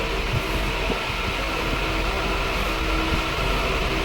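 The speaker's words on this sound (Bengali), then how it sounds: "ট্রেনে হ্যাঁ চলছে জানি না শুনতে পাচ্ছ কিনা" Steady low rumble and clatter of a moving train heard from inside a carriage, continuous and fairly loud throughout with no voices.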